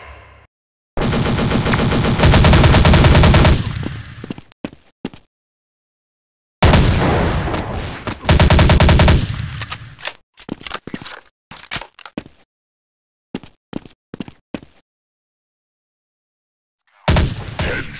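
Bursts of automatic machine gun fire in the Android shooter Critical Strike Force, with loud sustained volleys early on, then short scattered shots and brief pauses.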